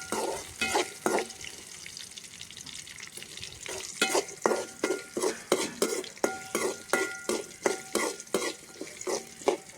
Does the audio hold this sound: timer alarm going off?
no